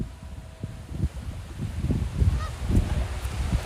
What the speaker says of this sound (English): Not swans, not swans. They're Canadian geese.